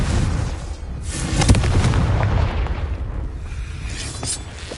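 Confringo spell explosion in the video game Hogwarts Legacy, a loud fiery boom with a rumbling, crackling tail and a second burst trailing off.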